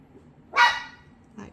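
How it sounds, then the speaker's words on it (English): A single short dog bark rings out in a quiet room, followed moments later by a fainter second yelp. "Why do you guys wait till I start a video and then you bark"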